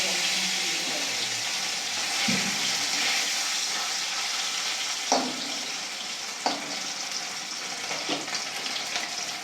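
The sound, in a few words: bata fish frying in hot oil in a wok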